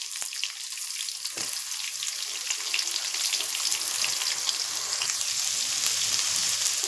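Chopped onions sizzle and crackle in hot oil in a kadai for a samosa filling, a steady, bright frying hiss that holds even and close throughout, with no voices.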